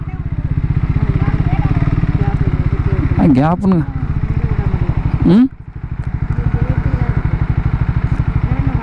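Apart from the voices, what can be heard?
Triumph Scrambler 400X motorcycle engine riding on highway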